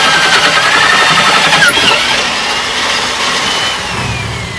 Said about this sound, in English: Don't like the sound of background diesel.